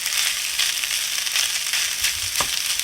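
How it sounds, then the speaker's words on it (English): A clam mixture simmers in a pan, giving off a steady, close hiss of sizzling and crackling with a few sharper pops near the end. "Now this has to simmer for 2 minutes."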